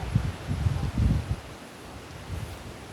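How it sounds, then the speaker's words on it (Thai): Strong wind gusting through trees at the Pha Hua Nak viewpoint in Phu Langka National Park, a rushing, rumbling roar buffeting the microphone in uneven surges, strongest in the first second, then easing to a steady low hiss. "ลมแรงลมแรง"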